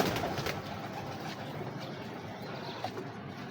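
Breeder pigeons coo inside a loft, soft low murmuring coos from several birds close by over a dense shuffling background, with no speech.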